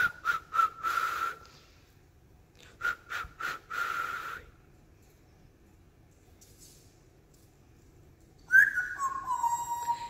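Short whistles from a pet bird mimicking a person's whistling come in quick rhythmic bursts, then a longer sliding whistle near the end, fairly faint against a quiet background.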